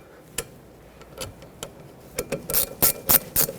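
A ratchet tightens a bolt on a rear brake caliper of a 2006-2010 Hyundai Sonata, giving sparse clicks at first and then a quick, close run of loud ratcheting strokes.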